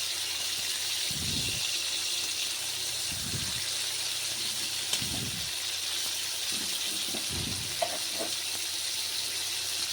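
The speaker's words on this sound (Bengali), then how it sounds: "আস্তে আস্তে ভাজতে হবে, নইলে সব ভেঙে যাবে। আমি আস্তে আস্তে ভেজে নিচ্ছি।" Prawns frying slowly in oil in a kadai, a continuous soft hiss and sizzle with a few low thuds from the pan.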